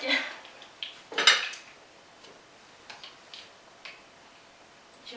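A lobster meatball is cut on a hard surface, producing a sharp scrape and clatter of cutlery early on, then a few faint, scattered taps.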